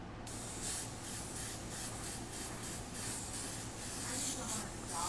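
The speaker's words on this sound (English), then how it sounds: "and then putting the airbrush down over it." Airbrush spraying paint onto Air Force 1 sneakers, a steady close hiss pulsing in short repeated bursts as the trigger is worked.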